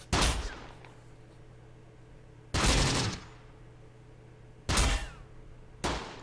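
Three heavy bursts of gunfire or ordnance impacts in the Close Combat wartime strategy game set in the Africa campaign, loud and separated by pauses of a couple of seconds over a low steady hum.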